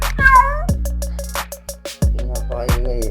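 A cat meows several times in quick succession, each call loud and close with sharp starts and wavering pitch, separated by short gaps and with no talking over it.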